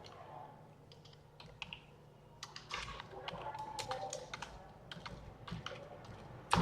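Computer keyboard typing at a desk, irregular bursts of crisp key clicks that start sparse and then quicken into a busy run, close and fairly quiet with some low room hum beneath.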